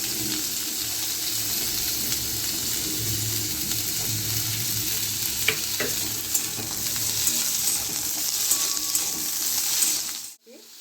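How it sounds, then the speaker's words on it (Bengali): Potatoes and pumpkin stalks fry in hot oil with a steady close sizzle, with occasional spoon clinks and stirring scrapes, until the sound cuts off abruptly near the end. "আমার এই তেলেতেই আমি একটু আলুগুলোকে ভেজে নেবো আলু আর ডাঁটাগুলো"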